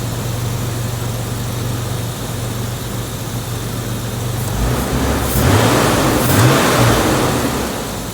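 A 1999 Ford Explorer with a 4.0L SOHC V6 and a cold air intake idles with a steady rumble, then is revved up in a few rising, throaty pulls. The sound is close and loud.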